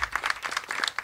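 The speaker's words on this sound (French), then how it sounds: "on peut les applaudir un petit peu" Brief burst of audience clapping for volunteer teams at a community gathering, distinct individual claps close by in a quick irregular rhythm.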